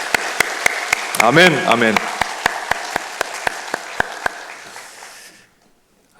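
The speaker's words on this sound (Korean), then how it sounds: "우리 그 예수님께 영광의 박수 올려드립니다." A Christmas worship congregation claps in a steady, even rhythm of sharp, loud strokes. Voices call out briefly over the early claps, then the clapping continues alone before fading out.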